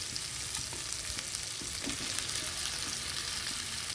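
Country chicken heads and feet fry with a steady, dense sizzle and crackle, close and even throughout, with a few soft stirring knocks.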